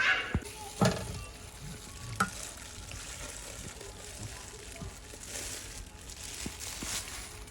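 Food being dry-roasted in a pan to eat with roti, with a steady close sizzle and a few sharper scraping stirs early on, no voices.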